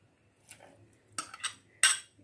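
A metal spoon stirs boiled potatoes, white chickpeas, onion, tomato and green chili together in a serving dish, giving a few separate scraping clinks that grow louder and sharper toward the end, with quiet pauses between.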